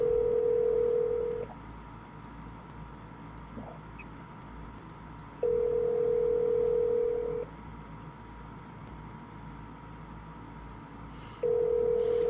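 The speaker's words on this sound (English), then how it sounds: "leave a voicemail on this one, then we're going to bring it over to Juan if he doesn't pick up" An outgoing telephone call rings out, with steady ringback tones of about two seconds repeating at regular intervals over a faint background hiss, no talking.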